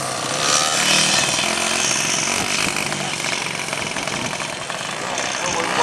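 A Honda XR trials-style dirt motorcycle running steadily nearby at an outdoor riding event, a loud buzzing, rasping engine drone that holds fairly constant throughout, with voices mixed in.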